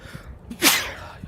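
A single sharp sneeze bursts out mid-clip, close and fairly loud, with quiet room tone before and after.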